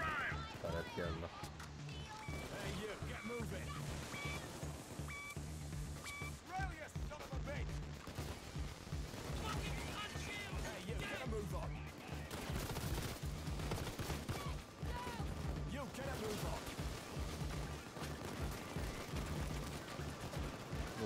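Rapid turret gunfire and bursts of shooting in the video game Payday 2, mixed with clattering game effects and music-like tones, continuous and dense over the whole stretch.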